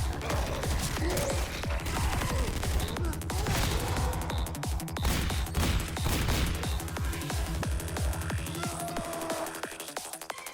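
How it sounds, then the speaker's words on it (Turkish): Rapid bursts of gunfire from a video game shooter, a dense, loud barrage of shots and crashes continuing throughout with hardly a pause. "Sabahtan beri duyulmayan silah sesi kalmadı."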